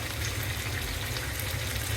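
Tilapia fish heads sautéing in oil in a pan, a steady close sizzle and bubbling crackle that keeps going with no pauses and no voices.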